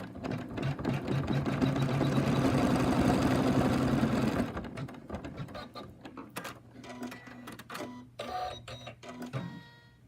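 An embroidery machine stitches the arm of an in-the-hoop pig softie, its rapid mechanical whirring loud and steady at first, then giving way to quieter, intermittent stitching bursts with pauses between runs.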